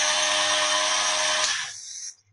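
An electric grinder whirs at a high, steady pitch as it grinds bread slices into powder for bread kulfi, then winds down and stops near the end.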